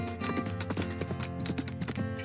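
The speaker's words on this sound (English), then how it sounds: "The horse took off at a sprint, while the snail slowly crawled along" Rhythmic clip-clop of a horse's hooves racing at a sprint in a children's animated story, steady repeated taps over a musical backing with no talk.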